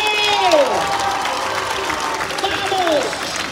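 Crowd applause at a 2022 competition final in Mauguio, sustained clapping and cheering with shouting voices rising over the clapping at a few moments.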